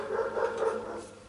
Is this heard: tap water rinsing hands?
no